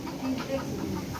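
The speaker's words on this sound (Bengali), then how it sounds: "ও বেজি দেখে মুরগি তো মন করতেছে" Chickens clucking in alarm at a mongoose near a rural home, several short, agitated calls at close range over a windy background.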